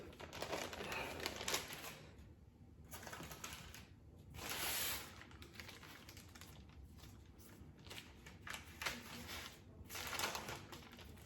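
A rolled sponge cake being unwrapped from its wrapping for a strawberry vanilla roll, faint crinkling and rustling of plastic or paper in uneven bursts, quiet and close with no talk.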